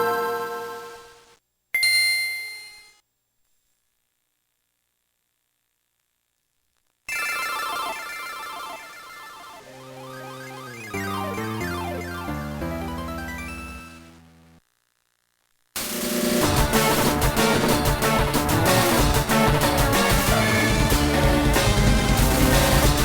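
Game Boy audio plays through the AGBM handheld: short chiptune bleeps and ringing tones, then a stepping melody, then a loud, dense stretch of bright chip music. Silent gaps separate the sections, with no talk.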